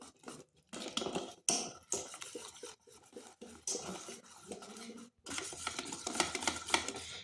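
Flour being mixed into eggless sponge cake batter in a steel bowl: quiet, irregular scraping and clinking of a utensil against metal, coming in short bursts separated by brief pauses.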